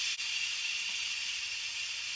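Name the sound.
steam releasing from Instant Pot pressure cooker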